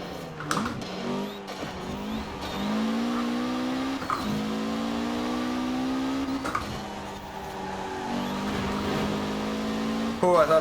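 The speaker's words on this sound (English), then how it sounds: "You can really hear those tires struggling to keep traction with the all-wheel drive system" Engine whine of all-wheel-drive rally cars in Forza Horizon 4, a Mitsubishi Evo VI battling Subaru Impreza STIs, with revs repeatedly climbing and dropping through gear changes and occasional thumps of contact, under steady commentary.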